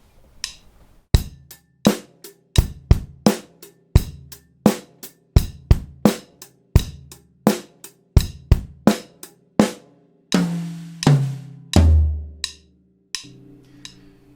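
Beginner drum kit groove played over a metronome, then a simple drum fill across the toms, ending in crashes; sharp, evenly spaced close hits with ringing low tom tones and no talking.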